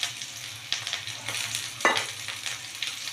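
Curry leaves dropped into hot oil for tempering, after mustard seeds have already fried, while making a bitter gourd fry: a steady crackling sizzle with a sharp burst near the middle, no talk.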